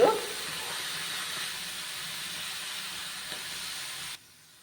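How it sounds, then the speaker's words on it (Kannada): Cluster beans frying in a pan: a steady, moderately quiet hiss of sizzling that begins with a brief louder burst, then runs evenly and cuts off abruptly near the end. "ಇದ್ರ ನೀರೆಲ್ಲ ಹೋಗಿ ಸ್ವಲ್ಪ ಕಲರ್ ಇದಾಗೋ ತನಕ ಹುರ್ಕೊತೀನಿ"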